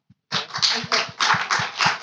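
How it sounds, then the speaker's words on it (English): Small gathering clapping at a cocktails-and-conversation event with an architect, scattered rhythmic hand claps at close range, building quickly after a brief pause and continuing unevenly. "So we have to applaud."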